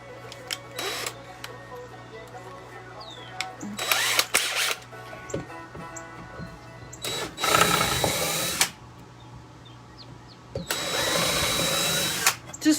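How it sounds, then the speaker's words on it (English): A power drill whirs in several short bursts separated by quiet pauses, drilling pallet wood with a bigger bit, with a high buzzing tone and some clattering between runs. "switch out my drill bit to a bigger one."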